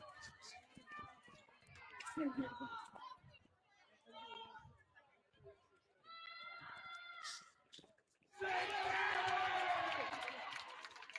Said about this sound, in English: the crowd erupted there a little bit because of your modern day memes and the fact that this place is loaded with high school age students